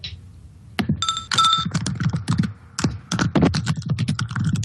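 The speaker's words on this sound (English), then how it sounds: "Might have been me typing." Rapid clicking of computer keyboard keys in bursts, close and fairly loud, with a brief electronic chime near the start.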